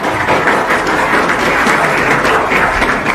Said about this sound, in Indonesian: Boleh tepuk tangan, tidak apa-apa.